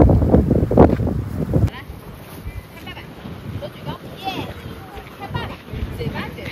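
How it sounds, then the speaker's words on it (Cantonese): Strong wind gusts across an exposed hilltop on the Dragon's Back trail at Shek O Peak in Hong Kong, high above the sea. The wind buffets the microphone in loud, rumbling bursts, heaviest at the start, and then keeps up a steady roar. "好大風啊！"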